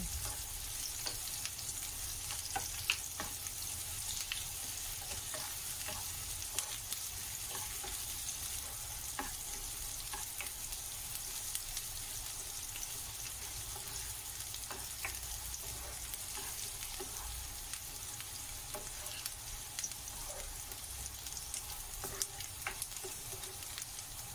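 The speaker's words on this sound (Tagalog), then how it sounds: "Fry natin siya until mag-golden brown." Tofu frying in a pan with oil until golden brown, a steady dense sizzle and crackle running unbroken throughout, close and even, with occasional faint stirring scrapes and no voices.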